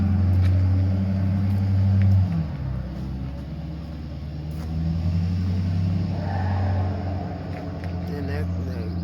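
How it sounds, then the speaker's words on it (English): A truck engine drones and revs loudly with a deep rumbling roar, shifting pitch as it accelerates, close by and steady throughout. "that truck sounded like it was screaming"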